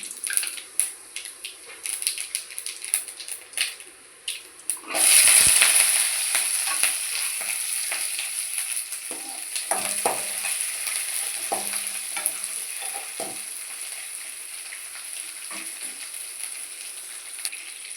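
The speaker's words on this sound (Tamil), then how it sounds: "இப்போ இதை வாணலியில் போட்டு வதக்கிடலாம்." Grated coconut sautéed and stirred in a spoonful of hot oil in a pan for a Tamil chutney, starting with quieter kitchen handling, then a loud sudden sizzle that settles into a steady frying hiss with scraping stirs.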